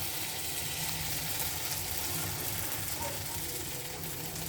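Batter of chana dal fritters dropped by hand into hot oil, frying with a steady close sizzle and crackle that fills the whole stretch at an even level, with no talk.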